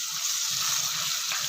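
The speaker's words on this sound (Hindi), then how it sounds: "इसमें मैं जो ये चावलों में पानी था वो ऐड कर दूँगी" Water from soaking rice is poured into a pot of black chana curry, a steady hissing, splashing pour that stays even and close for its whole short length, with no talk over it.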